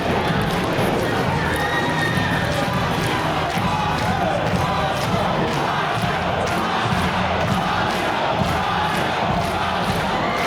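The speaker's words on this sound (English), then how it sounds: "This sellout crowd here at the Lenexa, Kansas Armory is chanting Roscoe Leech" A sellout pro wrestling crowd at the Lenexa, Kansas Armory chants during a Central States Wrestling show, forming a loud dense wall of voices that roars continuously with rhythmic chant pulses throughout.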